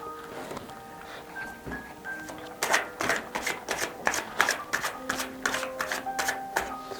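Tarot cards being shuffled during a reading, starting with soft handling and then a run of crisp rhythmic riffling flutters, close and clear with no talk.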